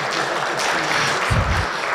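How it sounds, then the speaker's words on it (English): A round of applause at a fall assembly meeting: a broad, steady wash of clapping from the attendees, fairly loud, with a brief low thump near the end. "Could I have a round of applause?"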